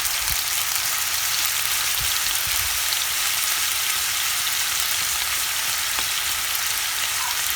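Half a pound of ground turkey sizzles steadily in a pan while browning for stuffed mushrooms, a constant close frying hiss with a few soft stirring knocks.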